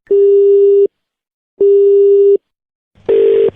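A phone busy tone after a call is cut repeats as steady electronic beeps, two clean long tones with a gap, then a third rougher, distorted one, loud and alone.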